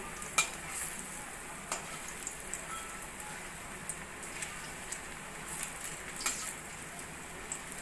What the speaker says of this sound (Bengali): আস্তে আস্তে করে আমি এভাবে